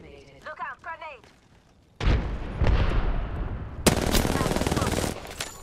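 Bursts of rapid automatic gunfire erupt in an Apex Legends firefight, loud and dense, following a few short voice lines at the start.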